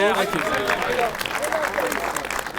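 A studio audience at a football chat show breaks into brief applause, mixed with crowd chatter and a voice speaking over the clapping.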